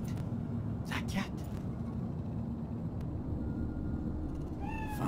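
A cat meowing in the video game Cyberpunk 2077, set in Night City: a couple of faint, brief meows over a constant low city rumble, with a short rising cry near the end.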